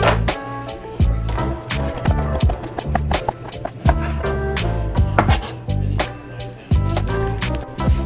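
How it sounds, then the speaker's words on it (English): A knife chops nenue, or rudder fish, on a cutting board for spicy poke, giving rapid, loud, close thuds in an uneven rhythm that continues steadily throughout, with other background sounds underneath. "now that everything is chopped up"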